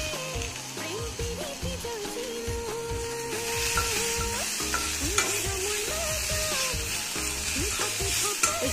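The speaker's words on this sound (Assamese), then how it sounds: "এতিয়া এড কৰিম কাটি থোৱা বিলাহীখিনি। এইখিনি অকণমান সময় লৰাই ল'ম।" Chopped tomatoes fry in a pan, a steady sizzle running under repeated scraping stirs of a utensil against the metal, close and fairly loud.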